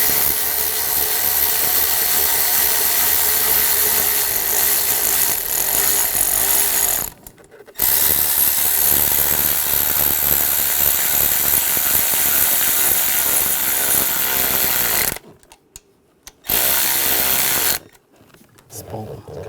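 Ratchet tightening intake manifold bolts on a 2006–2009 Mercedes-Benz E350 3.5L V6, dense continuous mechanical clicking and clatter broken by short pauses; close and loud, with some talk.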